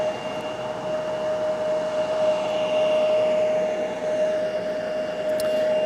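A CRJ regional jet at Raleigh-Durham International Airport gives off a steady, loud engine roar with a constant whining tone that holds throughout, close by and unbroken.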